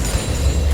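Tower being shot during a League of Legends: Wild Rift match, a continuous rumbling game soundscape with booming, bursting impacts and deep low-end thuds, loud and steady throughout.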